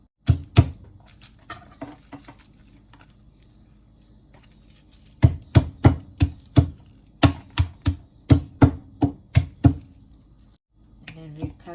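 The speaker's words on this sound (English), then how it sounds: "And then we cut into like small pieces." Knife cutting food into small pieces on a board, sharp close taps that come first in a short burst and then in a fast rhythmic run of about a dozen strikes, with brief voices.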